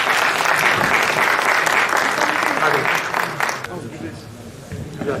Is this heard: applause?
yes